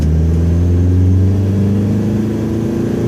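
A Frankendiesel car accelerates hard onto a highway, its engine note a loud, close, rising drone that climbs steadily in pitch with no voices.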